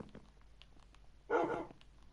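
A tamed wolf in Minecraft gives a single short bark, fairly faint against a quiet background with a few soft ticks before it.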